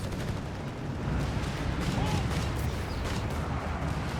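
Gunfire in the Company of Heroes 3 video game as Grenadiers come under attack, a dense rumbling barrage of shots and blasts that stays constant and grows slightly louder after the first second.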